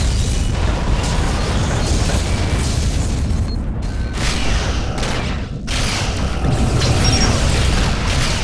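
A Romulan starship exploding in the space combat video game Star Trek Legacy, a sustained loud rumbling boom with bursts and short dips, continuous and close.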